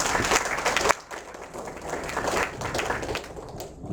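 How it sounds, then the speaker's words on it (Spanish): Audience applause at a lecture on Foucault, a loud, dense burst of clapping that dips briefly and then carries on steadily. "Un fuerte aplauso, por favor."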